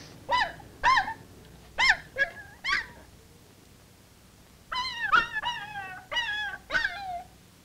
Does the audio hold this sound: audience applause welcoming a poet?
no